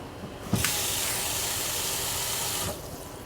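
Running water rinses a cooking pan at a kitchen sink during brown veal stock preparation, a steady close hiss and splash starting abruptly after half a second and cutting off near the end.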